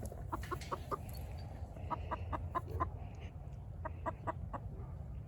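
Chickens cluck in short, rapid bursts of soft calls outdoors on a farm with sheep and a Karakachan livestock guardian dog, moderately distant over steady low wind rumble.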